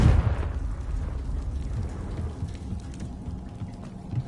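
A Confringo fire spell explosion in Hogwarts Legacy bursts with a deep rumbling boom at the start, then a crackling, fading roar of debris and fire that tails off.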